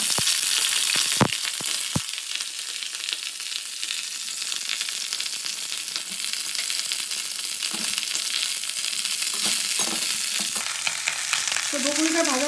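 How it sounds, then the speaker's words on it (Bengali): Broccoli sizzles and crackles steadily in hot oil in a pan as it fries for a vegetable dish, with a couple of sharp knocks early on and a brief stir near the end. "তো প্রথমে ব্রোকলিটাকে ভেজে নেব"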